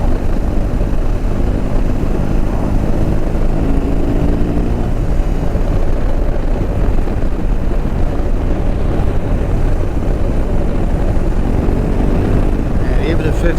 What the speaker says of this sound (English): Fifth gear, it picks up really fast.